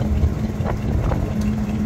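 A fishing trawler's engine drones steadily at the mouth of the sea off Dublar Char in the Sundarbans, a loud, continuous low rumble with faint splashing and no pauses.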